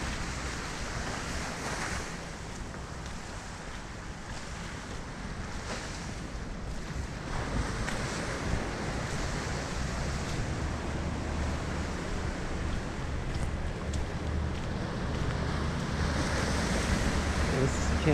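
Waves wash steadily onto the small beach at Camp Ellis, a continuous broad surf roar with some wind on the microphone, rising slightly toward the end.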